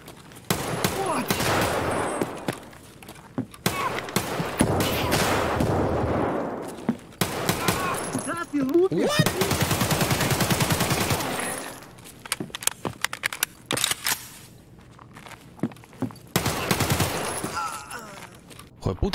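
Gunfire in the shooter game Escape from Tarkov: repeated close bursts of rapid automatic shots and single blasts, loud and crackling, separated by brief quieter gaps.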